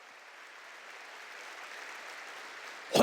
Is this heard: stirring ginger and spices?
no